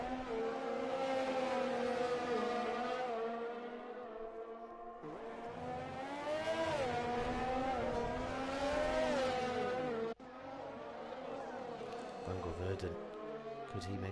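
An Alfa Romeo race car on the Hungary circuit drives a lap with a loud, whining engine that rises and falls through gear changes, under steady commentary.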